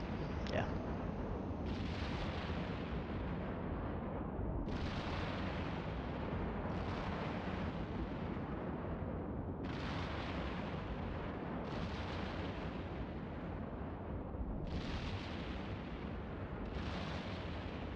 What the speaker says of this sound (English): I don't know why there are so many rockets coming.